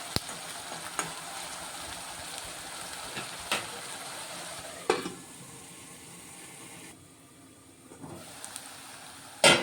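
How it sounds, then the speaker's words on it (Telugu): Onions with a pinch of salt sizzle and fry steadily in a pan for a curry, a continuous crackling hiss with a few sharp clinks and stirring knocks, quieting for a moment when covered. "ఆనియన్ ఫ్రై అవుతున్నాయి"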